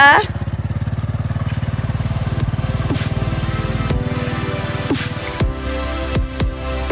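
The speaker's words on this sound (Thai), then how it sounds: "ตอนนี้เบนเทนกำลังจะขับแล้วค่ะ อุ้ย สับเกียร์ถอยหลัง ดูเกียร์สี่ด้วย ค่อย ๆ ไปแล้วนะคะ" A motorcycle ridden by a learner on a trip in Mae Hong Son idles with a steady close putter, then the engine note shifts and rises as it pulls away after a gear change, with engine noise continuing.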